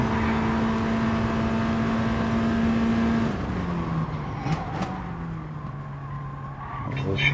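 Race car engine in GT Sport, a sustained high engine whine that drops as the car lifts and shifts, with tyre noise and occasional skids, no voices.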